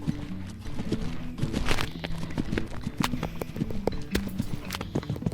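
Rapid rhythmic hoofbeats of a galloping horse in the riding video game Equestrian the Game, a steady clip-clop cadence with occasional soft whinnies and no speech over it.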